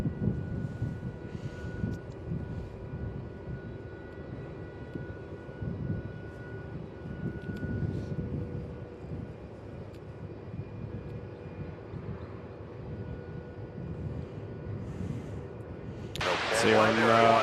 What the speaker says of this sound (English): Virgin Velocity just behind the Jetstar, about to take off now